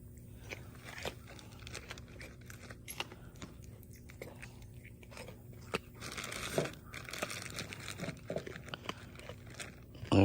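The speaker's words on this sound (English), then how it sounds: "And she's eating the carrots here." A deer crunches and chews raw carrots close by outdoors, a steady run of wet bites and crisp snaps over low background noise, with no talk.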